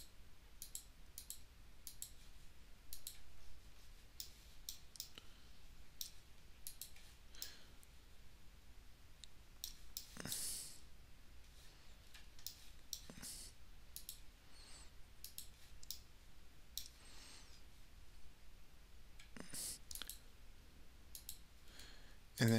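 Mouse clicks while selecting individual faces of a rocket fin base model in Fusion 360, a steady run of sharp, close, quiet clicks scattered irregularly across the whole stretch with no talking.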